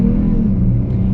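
A 2020 Dodge Charger with a V6 accelerating, giving a loud, steady low engine rumble heard close up from inside the car, with no talking.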